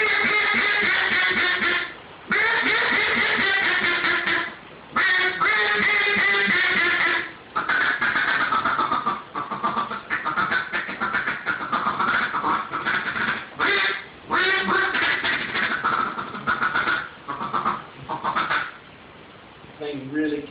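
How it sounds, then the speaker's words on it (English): A mallard duck call blown as a mess call, built for ponds, small water and swamps: loud bursts of rapid raspy quacks in quick runs, broken by brief pauses, then a softer trailing chatter near the end. "So that's all of our mallard duck calls"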